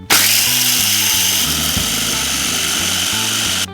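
Food processor grinding toasted coriander seeds, a loud, close motor whir with rattling seeds that starts abruptly and runs steadily for a few seconds before cutting off.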